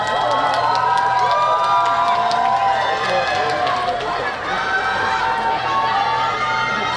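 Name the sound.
festival audience applauding and cheering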